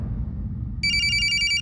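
A telephone starts ringing with a rapid electronic trilling bell, loud and steady, over a low background rumble, with no talk.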